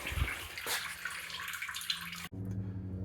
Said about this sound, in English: you may want to just squeeze on the upper radiator hose. And by doing that, more coolant comes out.